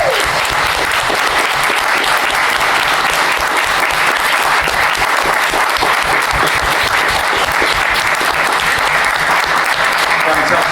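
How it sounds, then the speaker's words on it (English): Sustained audience applause at a comics convention panel as a competition winner is announced, steady dense clapping throughout, loud and close with no break. "Give him a round of applause."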